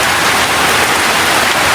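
Heavy rain falling, a loud, steady, dense hiss of drops pouring down close by with no breaks.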